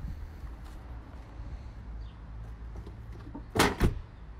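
Two sharp, loud thumps of a car door being slammed shut in quick succession, rising above a quiet, steady low background.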